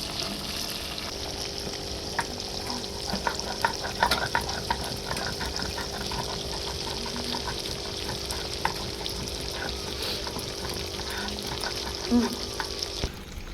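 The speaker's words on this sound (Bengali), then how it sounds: "জ্যান্ত মাছ তো খুব বেশি ভাজবে না হালকা পাতলা ভাজবে" Live snakehead fish fry lightly in a pan over a wood fire with a steady, soft sizzle. Occasional scraping and clinking stir through it, and faint voices can be heard in the background.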